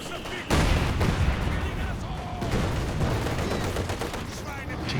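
Tank cannon fire and other gunfire in a Company of Heroes 2 battle, with a Panzer IV and a T-70 in play; a dense, continuous barrage of shots and rumbling blasts throughout, with voices mixed in.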